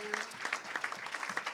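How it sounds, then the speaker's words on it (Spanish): A church congregation gives applause to the Lord, a quiet, brief patter of scattered claps heard from a distance, with faint voices mixed in. "Démosle un aplauso al Señor por cada uno de ellos."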